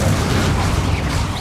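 The Incendio fire spell is cast in Hogwarts Legacy, giving a broad, roaring low whoosh of flame that stays steady and full for about a second and a half, with no voices.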